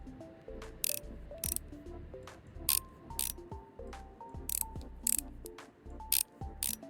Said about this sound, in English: Let's screw those 6 screws on.